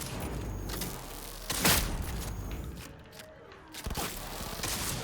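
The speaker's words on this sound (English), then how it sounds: "That's a grenade." A grenade goes off in Cyberpunk 2077 gameplay: a single loud, broad burst with a short rumbling tail rises out of steady game noise, and lighter sharp cracks follow later.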